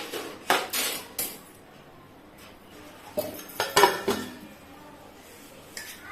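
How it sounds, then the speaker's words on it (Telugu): Eggplant pieces for a fry being stirred in a pan with a metal spoon, giving clusters of scraping clanks and taps against the pan, close and fairly loud, in two bursts separated by a quieter pause. "ఇలా మధ్య మధ్యలో కలుపుకుంటూ ఉండాలి."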